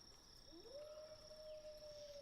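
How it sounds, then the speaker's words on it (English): A lone wolf howl rises near the edge of a woods by a chicken yard, then holds a long, steady, faint tone for about two seconds with no talk over it. "you hear a wolf howl."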